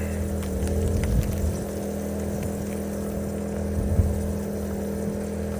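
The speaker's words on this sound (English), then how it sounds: "Sorry for the generator noise." A generator drones steadily at an off-grid van campsite, a constant low hum with a few faint clatters and bumps over it, fairly close, with no talk.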